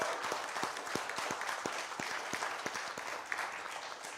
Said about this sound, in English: So let's just all clap right now and get it out of our system.